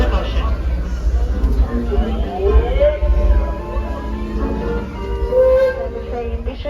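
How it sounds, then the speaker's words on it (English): Disneyland Railroad train rolling along with a steady low rumble, whistle-like tones rising and falling above it, and a crowd of riders chattering throughout. "Remain seated, train still in motion."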